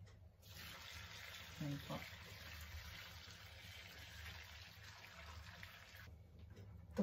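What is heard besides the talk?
pouring boiling water onto bracken (warabi) ferns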